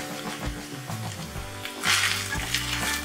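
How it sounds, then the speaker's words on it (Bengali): Rice for South Indian lemon rice stirred and fried in a pan, a steady close sizzle with scraping spatula strokes and a brief louder burst of frying partway through. "এক মিনিট একটু ভালোভাবে নাড়াচাড়া করে ভাতটা ভেজে নিয়েছি"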